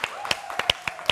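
Hand clapping from a small group: a steady series of sharp, evenly spaced claps about five per second, close and moderately loud, with no speech over them.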